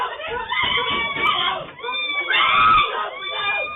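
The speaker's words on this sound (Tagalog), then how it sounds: "Dinig mula sa loob ng bahay ang sunod-sunod na sigaw na humihingi ng saklolo." Repeated screams for help from inside a house during a violent incident, heard as urgent, high-pitched shouts that come in rapid bursts, loud and muffled as if through walls.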